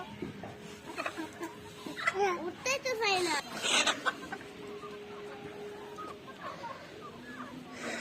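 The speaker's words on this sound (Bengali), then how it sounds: "এবার আমরা আসলে এই দেশি মুরগিগুলো উঠানোর চেষ্টা করতেছি" Native chickens cluck and squawk in short bursts nearby at dusk while children's voices chatter faintly in the background.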